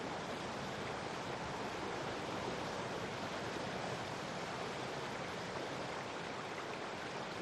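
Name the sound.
roaring cascade of waterfalls in a Carpathian gorge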